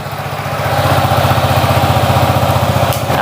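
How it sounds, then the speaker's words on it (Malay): A Yamaha XMAX scooter engine idles steadily just after starting, a close, even low rumble with a regular pulsing beat running throughout without talk. "enjin dah start"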